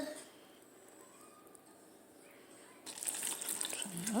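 Water pours from a watering can into saucers beneath house plants, starting as a quiet trickle and then becoming a louder, splashy stream for the final second or so, heard up close.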